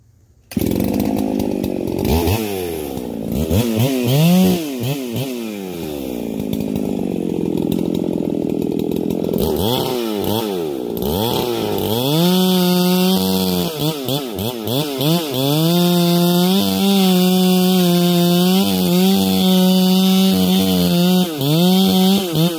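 Chainsaw cutting through a hard leaning tree, with a loud, close engine revving and bogging down in long sustained bursts as the bar punches through the trunk behind the hinge, no talking.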